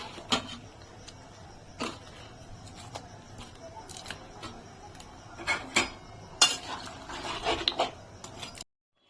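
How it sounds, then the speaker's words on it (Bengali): Fish heads drop into a cooking pot for fish-head pulao, giving scattered clinks, scrapes and soft thuds of metal utensils against the pot, close by and moderately quiet, with no talking. "আমি এখন মাছের মাথাগুলো দিয়ে দিচ্ছি এর ভিতরে।"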